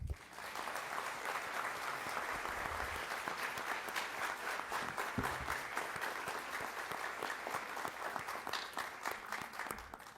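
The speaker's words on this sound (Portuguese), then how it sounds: "Uma salva de palmas" Sustained audience applause at a ceremony in São Paulo's city council awarding an honorary citizen title, dense and steady clapping from a large crowd for about ten seconds with no speech.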